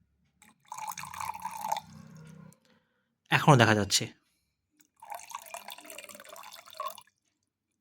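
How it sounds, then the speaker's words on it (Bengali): Water poured slowly over a ten-rupee coin in two separate soft, splashy trickles, with a short spoken remark between them. "আমরা আস্তে, আস্তে উপরে জল ঢালছি।"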